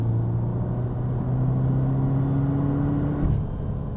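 Peugeot 308 R Hybrid hot hatch accelerating on its petrol engine, a loud steady droning rumble with rising engine tones that break off near the end as a gear changes, heard from inside with no talk.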